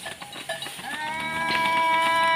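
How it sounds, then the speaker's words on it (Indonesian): Cattle at a breeding farm of about eighty head: a cow lets out a long, loud, drawn-out moo, with softer calls and shuffling from the herd beforehand. "Ini sendiri kita lihat, ini sapi ya Surip. Sudah pada mulai ngumpul semua"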